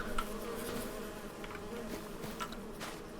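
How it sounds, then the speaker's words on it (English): Bees buzzing in Farming Simulator 25, a continuous dense insect drone with flickering higher whines as individual bees pass, fairly quiet and steady throughout with no voices. "Is it because of the bees?"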